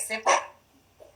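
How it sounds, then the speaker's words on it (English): A dog barks twice indoors in a house, sharp and fairly close, with a faint whimper afterward and a person speaking briefly. "Sorry, the dog again. You hear her?"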